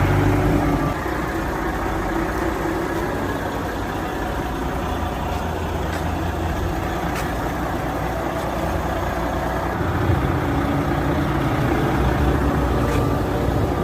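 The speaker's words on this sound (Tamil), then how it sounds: "டபுள் இன்ஜின் வண்டி." BMW 1800cc double-engine motorcycle idling, a steady low rumble that holds evenly throughout, close and fairly loud.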